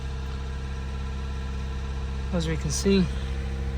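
A Nissan 1.5 engine idles steadily in its cooling phase after a DPF regeneration, a constant low hum throughout with a voice speaking briefly over it near the end.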